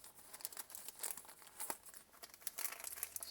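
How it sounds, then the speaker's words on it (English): A small envelope sealed with washi tape is peeled open and unwrapped with close, quiet crinkling and papery rustles in short irregular bursts. "I'm just going to take this little envelope off and see what's inside here."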